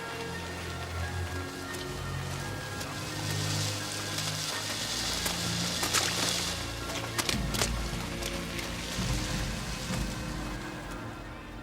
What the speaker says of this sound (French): Il y a de la pluie acide, dépêchez-vous.